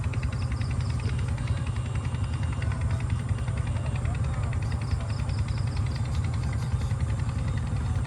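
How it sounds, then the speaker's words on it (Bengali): At a riverbank, a boat engine and a fishery machine run together in a steady, low throbbing drone that continues evenly throughout. "শুনেছো নৌকার মেশিন, এইদিকে ফিশারির মেশিনের আওয়াজ, ডিক ডিক ডিক ডিক ডিক ডিক।"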